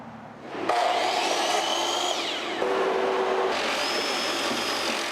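Power tools whine during a volunteer house makeover in Manchester: loud, shifting motor tones rise and fall in pitch, a cut starts, fades briefly, then resumes, with no talking.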